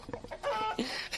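A chicken clucks in short, squawky bursts inside a garage where a VW Beetle's heater channels and floor pans are being replaced, close by and fairly loud, with no talking.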